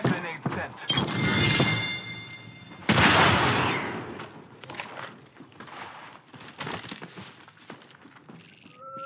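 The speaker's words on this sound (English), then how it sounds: "Frag grenade sent." Frag grenade blast and gunfire in the video game Apex Legends, played on an HP Pavilion gaming laptop: sharp thuds and a loud roaring explosion mid-clip, followed by scattered shots and fainter clatter.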